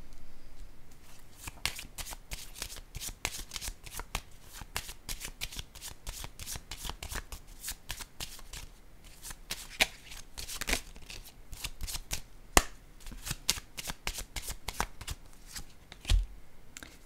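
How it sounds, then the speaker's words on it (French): Tarot cards shuffled and laid out in a long run of crisp, rapid riffles and flicks, with a few sharper snaps as cards are set down, close and fairly quiet. "Je vais déposer une autre carte."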